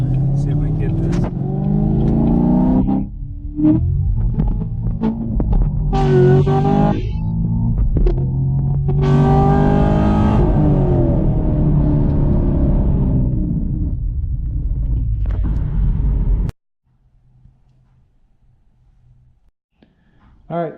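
A Chevrolet Camaro SS engine pulls hard while driving, loud throaty revs climbing and dropping through several gear changes with a deep rumble, then cutting off abruptly into near quiet.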